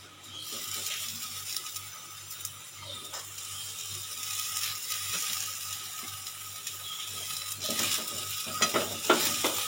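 Sweet corn stirred into a potato filling in a pan. A faint, steady sizzle runs under soft scraping and occasional light spatula taps, growing a little busier toward the end.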